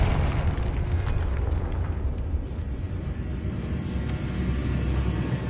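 A Bombarda blasting spell goes off in Hogwarts Legacy, a loud, sustained rumbling boom that rolls on for several seconds with dense low-end roar and no voices over it.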